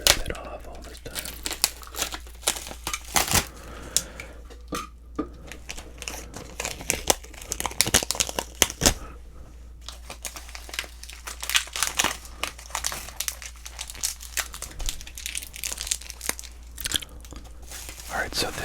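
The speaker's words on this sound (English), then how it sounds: "Maybe I'll just cut it because I don't know if I want to rip it off all this time." A wax pack of sports cards is cut and opened up close, with soft crinkling, tearing and scraping of wrapper sounds in irregular bursts over quiet background hum.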